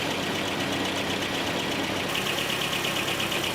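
A Nissan 720 truck engine idles steadily with a close, continuous mechanical drone and some knocking texture, running alone without talk.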